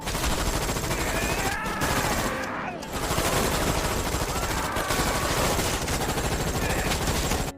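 Sustained gunfire in a film scene as a man turns a weapon on apartment residents, with rapid machine-gun bursts filling the clip loudly and almost without pause, broken only by brief gaps.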